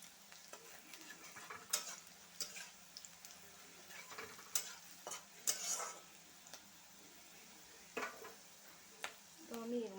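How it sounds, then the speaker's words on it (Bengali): Onion and green chilli frying in a pan, with a steady sizzle broken by sharp scraping stirs and occasional clinks of a utensil against the pan, heard close with no talk. "পেঁয়াজ আর কাঁচা লঙ্কাটা আমার ভাজা হয়ে গিয়েছে।"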